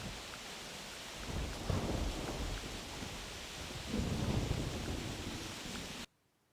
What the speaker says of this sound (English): Otherwise all we hear is rain and thunder.